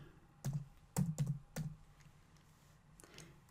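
Keys tapped on a computer keyboard while entering a spreadsheet formula, a few quick clustered clicks followed by softer scattered taps, close and fairly quiet with no talking.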